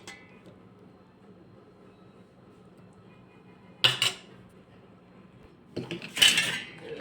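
Metal pots and a colander clatter in a kitchen as pasta is drained, two sharp bursts of clanking and ringing separated by a quiet stretch, close and with no talk.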